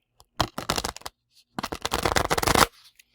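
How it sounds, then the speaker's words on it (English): Large cards are shuffled in two quick rustling bursts separated by a brief pause, close and fairly crisp. "I haven't figured out really how I want to shuffle these yet, because they're so big."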